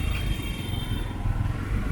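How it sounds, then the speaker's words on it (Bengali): A motorcycle rides through Kolkata streets along Rash Behari Avenue, its engine a fairly quiet, steady low drone with slight revving and road clatter, heard from on board. "দাদা বাইক চালাচ্ছে"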